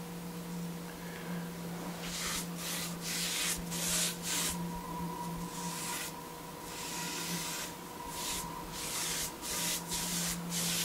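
Painted wood surfaces are sanded by hand with a steady, rhythmic rubbing and scraping of sandpaper, with repeated strokes and short pauses between them, close and clear.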